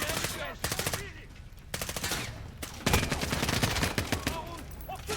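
Sustained machine gun fire from the video game Call of Duty Modern Warfare 2019, loud rapid bursts with brief gaps, layered with battle noise and shouted voices.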